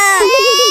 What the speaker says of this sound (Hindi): बाबू के रोने की आवाज आई